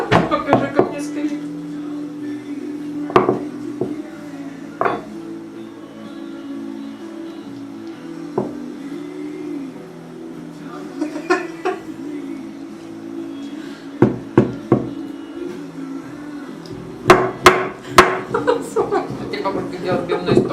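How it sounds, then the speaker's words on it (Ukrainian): Child tapping a spoon while a grandmother strikes with a hammer, scattered sharp knocks and short bursts of taps at home, loudest near the end, with steady talking and chuckling throughout. "Софа, давай ты ложкой, а бабушка молотком будет стучать"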